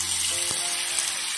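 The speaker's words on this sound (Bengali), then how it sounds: "এই গরম অয়েলে এবার আমি কিন্তু চিকেনগুলো সুন্দরভাবে সাজিয়ে দেবো।" Chicken pieces sizzle in hot oil in a pan, a steady bright crackle with one brief clatter as a piece is set down. No voices.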